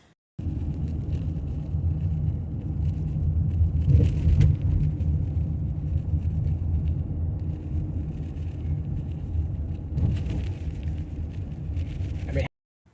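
A 2014 Chrysler 300 with a front-end rattle is out on a test drive, with a steady low road rumble inside the cabin and a few brief louder knocks along the way.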